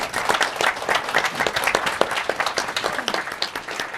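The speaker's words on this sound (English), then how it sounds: "Please give everyone a round of applause" Audience at a public event applauds a panel with continuous, full clapping from many hands, bright and fairly close, holding steady for several seconds with no talk over it.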